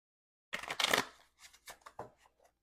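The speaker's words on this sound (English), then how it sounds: "So I'm going to give these cards a shuffle." Uncoated Loteria picture cards are shuffled by hand, a close riffle of rapid papery flutters followed by several shorter taps and slides, with no voices.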